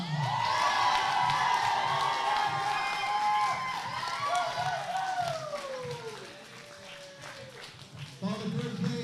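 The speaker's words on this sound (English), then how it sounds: "Can we please have a huge cheer for our winner this year?" Cheers, whoops and shouting from a crowd, children among them, honouring the winner of a youth B final. The sound is loud and sustained from the start, fades slightly through the middle, then swells again near the end.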